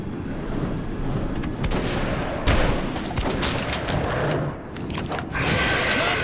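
Rapid gunfire bursts and booming shots from the video game Metro Redux, set in the Rizhskaya level, loud and continuous with dense chaotic battle noise throughout.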